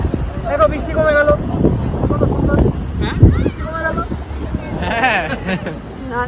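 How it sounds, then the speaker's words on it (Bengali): Strong wind buffets the microphone at an airport in Azerbaijan after rain, a loud rumbling rush beneath people talking and background chatter throughout. "প্রচণ্ড পরিমাণে হাওয়া চলছিল, তার আওয়াজ তোমরা অলরেডি পাচ্ছ।"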